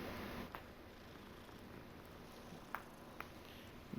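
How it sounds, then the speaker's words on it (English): A cat purrs in a soft, steady rumble that stays faint and continuous, with a few small taps and no talk. "Oh, another cat."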